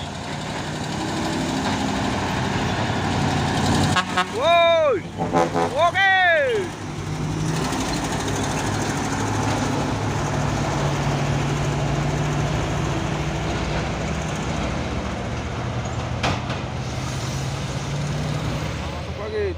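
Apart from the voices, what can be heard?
trailer trucks climbing the Bukit Korok hill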